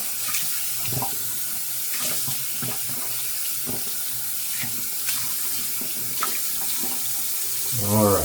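Steady running water from a tap rinses something off at a sink, a continuous close splashing hiss throughout, briefly under a short spoken remark.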